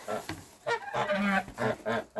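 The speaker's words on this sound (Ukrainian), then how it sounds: "Гусочкам моїм не дають їсти." Farmyard geese honk in several loud, nasal bursts close by while a woman feeds them, the calls coming in quick uneven succession with short gaps.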